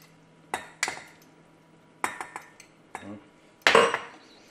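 Butter whisked into a vanilla sauce for filet mignon: a metal whisk knocks and clinks against the pan in short, separate bursts, close and fairly sharp, with brief quiet gaps between strokes.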